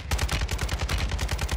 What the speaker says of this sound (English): Of course, I'm getting shot from the left side.